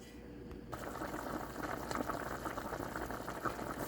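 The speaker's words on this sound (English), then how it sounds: "So now it's boiling nicely." Curry stewing beef boils in a pot with a steady bubbling and hissing simmer close up. A brief quieter moment comes at the start, then the sound settles into continuous even boiling.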